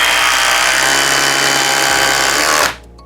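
Flex drill on a 5 amp-hour stacked lithium battery drives a 5-inch SPAX screw into wood, a loud close whine that holds steady, bogs slightly under load, then stops abruptly as the screw seats.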